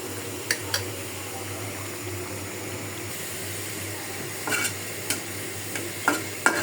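Onion, garlic and oil sizzle steadily in a pan for a dal tempering, a constant close frying hiss with scattered clinks and scrapes of stirring.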